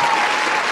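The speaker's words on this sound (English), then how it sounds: "Come on, mad applause" Studio applause during a hip-hop podcast, a brief, dense, steady burst of clapping celebrating an artist's album sales.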